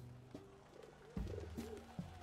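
A pigeon in Valiant Hearts coos softly, a few low throaty calls in quick succession, faint and close against a quiet background.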